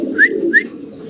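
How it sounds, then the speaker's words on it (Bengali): Two short rising coos from a caged pigeon, close and clear, one about a third of a second after the other, over a low steady murmur of background noise. "খাঁচায় কিছু কবুতর দেখাই সরাসরি যেভাবে আছে"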